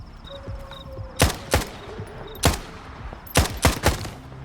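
Sharp gunshots ring out in Stalker 2, first a pair, then a single, then a quick burst of three, each loud and close with a short echoing tail.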